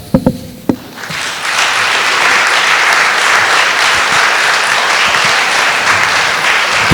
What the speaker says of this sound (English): please big applause to the host of this building